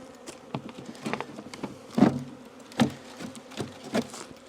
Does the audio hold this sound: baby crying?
no